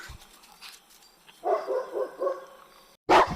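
A dog barks from behind a hedge along a wooded countryside path near Saint-Jouin-Bruneval in Seine-Maritime, a few rhythmic mid-distance barks followed by a louder, closer burst at the end.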